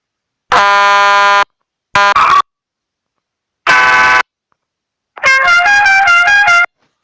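Loud truck horn blasts in the cargo driving game Cargo Simulator 2021 sound in separate bursts with silent gaps, a steady tonal blare, then a brief stuttering one, and a final warbling multi-note honk.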